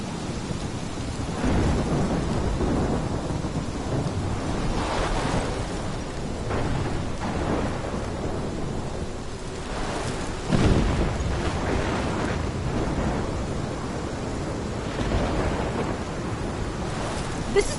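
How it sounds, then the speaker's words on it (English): A thunderstorm with steady heavy rain in the video game Life is Strange: continuous rain hiss and patter throughout, with deep rolling thunder rumbles swelling several times and a sharper crack near the middle, loud and enveloping. "This is my storm."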